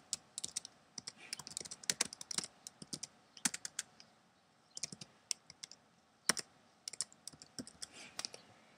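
Typing on a computer keyboard while building a page layout, with irregular bursts of crisp key clicks and occasional louder keystrokes, close and clear over a quiet background.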